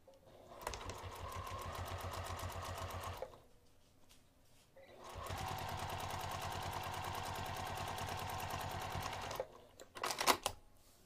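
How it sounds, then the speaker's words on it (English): A sewing machine stitches along the top of a fabric flap in two long steady runs of rapid mechanical chatter, separated by a short pause, ending with a few quick clunks and no speech. "I'm going to take this over to the sewing machine. I'm going to sew on top of the flap"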